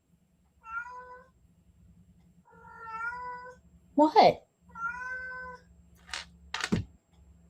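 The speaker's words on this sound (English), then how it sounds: "You're just meowing for no reason" A cat meows several times in drawn-out, tonal calls with short pauses, close up, interrupted by a brief spoken word and a few sharp clicks.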